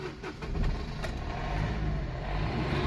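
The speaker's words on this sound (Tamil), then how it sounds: "இப்போ நான் வண்டியை ஸ்டார்ட் பண்ணுறேன்" A Chevrolet Beat with 229,000 km on it and an oil-burning fault turns over and settles into a steady idle, heard close up with no talking.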